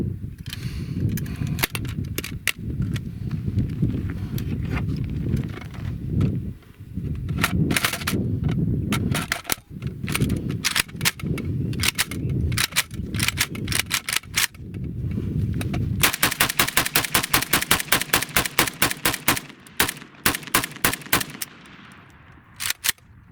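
Rapid AK rifle fire at an outdoor range, loud sharp reports coming in irregular bursts and single shots, ending in a fast continuous string of shots near the end.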